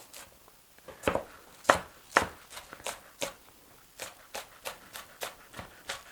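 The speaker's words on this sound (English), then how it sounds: "Okay, next is the green onions, and so I like to just chop it thin." A knife chops thinly through green onions on a board for a bun filling: a run of crisp, close, evenly spaced strikes, irregular at first and then steadier, with short pauses between them.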